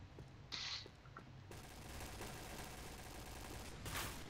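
Bursts of automatic gunfire in a team shooter video game, a dense sustained rattle of rapid shots running several seconds with sharper cracks near the start and end, fairly loud and close, no talking over it.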